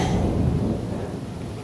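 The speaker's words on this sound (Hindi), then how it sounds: "लगातार बारिश हो रही है।" Steady heavy rain with a low, rolling thunder rumble, loud and continuous throughout with no voices.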